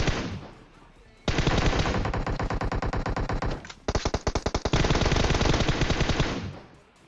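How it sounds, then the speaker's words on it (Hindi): Automatic gunfire in the mobile battle-royale game PUBG Mobile: loud, rapid machine-gun bursts rattle close by, with one long stream broken by a brief pause before more rapid shots. "ये लोग क्या कर रहे थे, मेरे टीममेट पे फायरिंग दे रहे थे"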